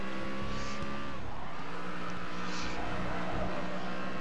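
Race car engine and tires in Grid Autosport as the car drifts through a corner on a reversed Hockenheimring layout, the engine note sliding downward under faint tire squeal at moderate distance, fairly quiet.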